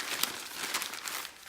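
Sheet paper crinkles and crumples close up, a brief continuous papery rustle while it is folded for papier-mâché to bulk out a sheep figure.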